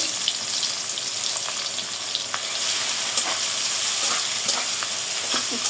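Chopped onion frying in oil in a pan, a loud, dense, continuous sizzle and crackle close by, with faint scattered clicks and no voices.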